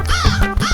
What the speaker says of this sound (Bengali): শালিকটাকে সিঙ্গেল দেখে অমনি সকাল সকাল কাকেরা গানের জলসা শুরু করে দিয়েছে